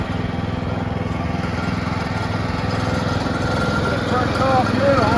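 A 2022 TWC-32 conveyor's engine runs steadily nearby, a loud continuous mechanical drone with a throbbing low rumble that swells slightly toward the end.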